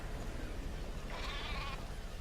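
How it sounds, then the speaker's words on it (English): A single sheep in Metal Gear Solid V lets out one short bleat at Mother Base over a steady bed of background noise. "we see our friends, the sheep, as well as Jackie, have made it back to base safely"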